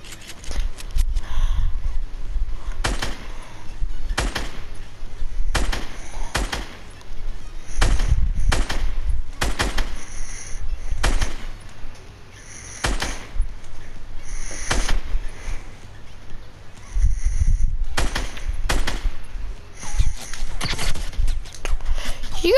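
Gunfire in Fortnite: sharp, separate shots crack out in irregular clusters of one to three, loud and punchy, spread across the whole stretch over a quiet game background.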